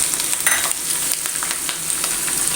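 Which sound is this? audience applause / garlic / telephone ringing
garlic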